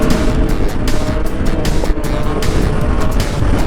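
A Yamaha MT-09 / FZ-09 motorcycle roars loud and steady during a wheelie stunt, its engine note sustained with slight surges throughout.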